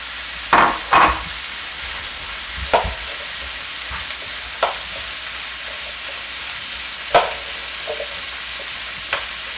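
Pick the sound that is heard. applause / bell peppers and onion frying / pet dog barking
bell peppers and onion frying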